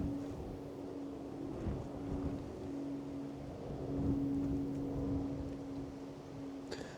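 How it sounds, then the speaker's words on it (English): Strong wind buffets the microphone at Ventnor Haven harbour on the Isle of Wight, a continuous low rumble with a faint steady hum running through it and no one speaking. "Strong wind again"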